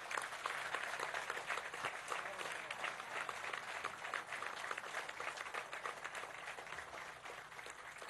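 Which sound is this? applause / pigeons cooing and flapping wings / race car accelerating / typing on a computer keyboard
applause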